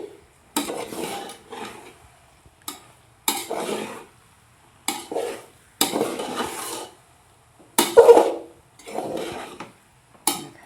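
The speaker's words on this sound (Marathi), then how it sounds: "मस्त असं पातेल्यात हलवता आलं." A utensil scrapes and stirs through a large pot of pasta with coriander in repeated bursts of a second or two, separated by short pauses. The scraping is close and rasping, and no one speaks.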